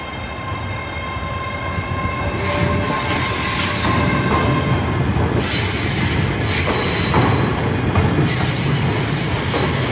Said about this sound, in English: So it's just a single unit departing out of the 385-031 heading on its own